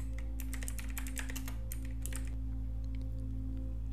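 A search is typed on a computer keyboard in a Chrome browser on Windows: a quick flurry of close key clicks over a steady electrical hum, thinning out to a few isolated taps toward the end.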